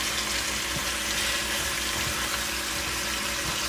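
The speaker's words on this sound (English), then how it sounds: "just trying to get it a little sear to it" Oxtails searing in a hot pan give off a steady, faint hiss of sizzling fat that runs without a break through the whole stretch.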